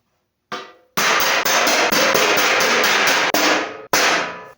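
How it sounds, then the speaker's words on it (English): A hammer whacks bolts into holes drilled through a wooden Swiss-cheese-style chair, sounding as a loud, close, rapid run of repeated strikes that blur together, with brief gaps between bursts and no talking. "I'm just going to give all these a little whack"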